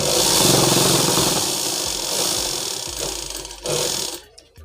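A sewing machine stitches through a sack bag, a steady motor whir with rapid needle chatter that slows and stops near the end, close and alone.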